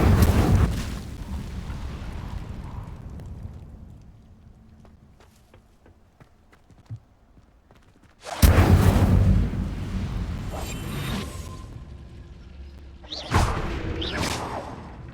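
An Incendio fire spell cast in Hogwarts Legacy, a loud whooshing burst of flame that dies away into quiet, then erupts again in a big roaring blast followed by another fiery burst.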